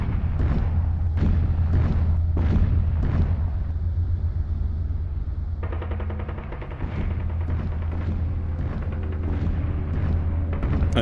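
Artillery cannon fire during the Spanish Civil War siege of the Alcázar of Toledo, a loud, continuous barrage of rapid booming blasts mixed with a low rumble that runs throughout, with no talking.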